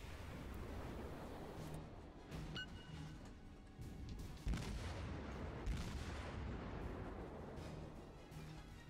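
Naval gunfire in the World of Warships game from a Tenryu cruiser and supporting ships on either side, faint booming salvos over a continuous low rumble of sea and engine, with no voices.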